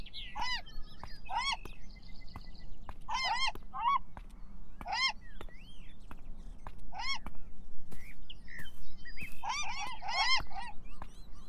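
Seagulls calling in the video game Beyond Eyes, a series of repeated harsh, squawking cries near and far, coming in bursts over a steady low ambient hum, with no talk.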